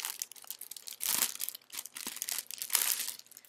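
A plastic wrapper or bag being handled, loud close crinkling in bursts with brief pauses, sharp crackles spread across the whole clip, no voices.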